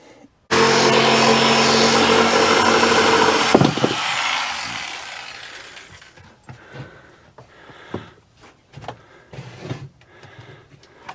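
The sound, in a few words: jigsaw cutting wooden board in a van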